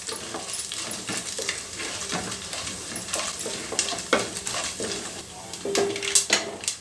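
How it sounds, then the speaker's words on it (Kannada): Cashews and coconut pieces frying in a pan for rava idli, a steady sizzle broken by frequent spoon-and-pan clinks and stirring scrapes, close and moderately loud. "ಗೋಡಂಬಿ ಮತ್ತು ತೆಂಗಿನಕಾಯಿ ಪೀಸು ಇದೆಲ್ಲ ಸ್ವಲ್ಪ ಕಲರ್ ಬರೋ ತನಕ ಫ್ರೈ ಮಾಡಬೇಕು"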